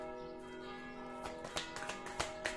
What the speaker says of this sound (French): À l'appel des cloches.